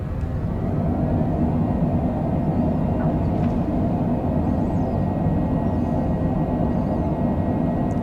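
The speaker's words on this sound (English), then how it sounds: "Spoilers are up, reversers are on." A Cessna Citation Longitude business jet lands on a short runway with spoilers up and thrust reversers on, heard from the cockpit as a loud, steady broadband roar and rumble that holds throughout.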